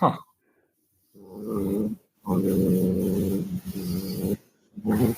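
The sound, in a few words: cat growling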